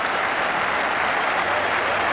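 At an India versus England cricket match, a large stadium crowd breaks into dense, continuous applause after Virender Sehwag is dismissed, a loud, even wash of clapping with no pauses.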